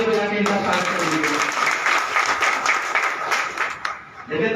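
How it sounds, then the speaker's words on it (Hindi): An audience at a press club political event applauds to welcome a speaker, a dense sustained burst of many hands clapping close by that thins out near the end, with a voice speaking over it. "जोरदार ताली बजा के इनका स्वागत करेंगे"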